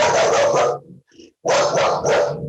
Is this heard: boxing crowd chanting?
no